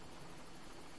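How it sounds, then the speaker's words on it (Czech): Steady broadband whir of a helicopter in the video game Far Cry, constant and fairly loud with a faint rhythmic beating, no voices. "Je vrtulník."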